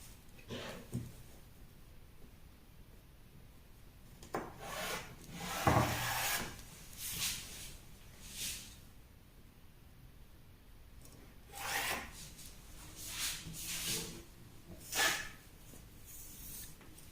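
Scissors cutting fabric for a pencil wrapper skirt, quiet rasping snips and rubbing of cloth coming in irregular bursts, close and faint, without talk.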